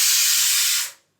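A home pressure cooker steaming rice flour puttu releases a loud, steady hissing whistle of escaping steam that holds for nearly a second, then fades quickly to silence.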